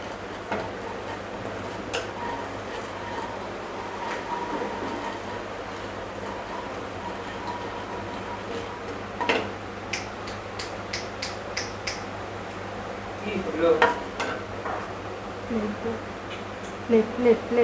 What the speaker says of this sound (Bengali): আমি শুকনো খোলায় একটু পোস্তটাকে ভেজে নিলাম